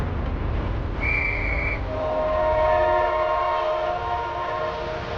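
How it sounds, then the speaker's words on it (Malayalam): A train sets off from a station with a clear whistle blast, then a steady low rumble and long sustained horn-like tones as it starts moving, with no talk. "ട്രെയിൻ പുറപ്പെടാൻ പോവാ."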